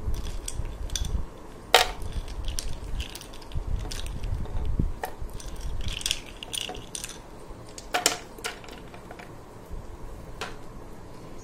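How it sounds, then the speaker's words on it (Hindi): Ice cubes are dropped into a banana shake, clinking and rattling irregularly against the container in sharp, separate knocks, with a few louder clunks among quieter taps. "जितना आपको ठंडा चाहिए उतने आइस क्यूब्स आप ऐड कर सकते हो"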